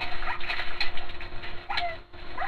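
Dog whimpering in Minecraft Console Edition, a few short high whines and yips in a quick broken series, fairly close, with faint voices underneath.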